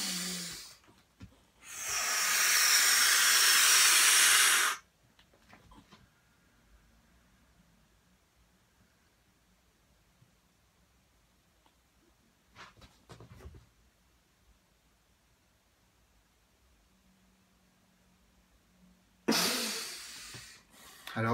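A loud, breathy inhalation during nauli yoga practice, a sustained hissing intake lasting about three seconds, followed by near silence with faint rustles and another sharp breath at the end.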